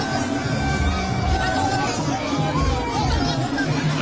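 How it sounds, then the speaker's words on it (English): An enormous crowd of party supporters at a nomination filing for the NPP leadership chatters in a dense, continuous babble, with overlapping voices close and distant filling the space throughout. "the crowd is enormous"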